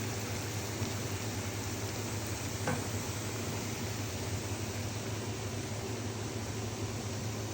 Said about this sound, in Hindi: चूरी को हम लोगों ने लगाया देसी घी का तड़का।